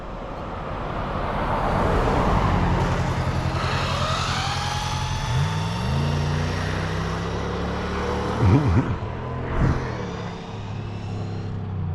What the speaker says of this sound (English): Once this truck go by.